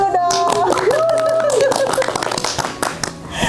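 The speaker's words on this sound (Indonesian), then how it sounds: "Tepuk tangan dulu dong." Hands clapping together in a relaxed chat session with cadets, a burst of quick claps mixed with voices and a sung or drawn-out vocal tone over them, near and fairly loud.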